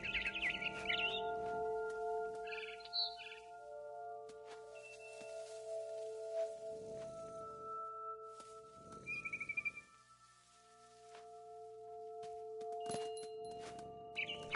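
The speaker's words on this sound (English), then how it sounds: "Then I heard chirping outside my window. It was a barn swallow going back to her nest." Barn swallow chirping outside a window in the video game What Remains of Edith Finch, short high chirps at the start and again midway, faint over a soft musical backdrop and a low hum.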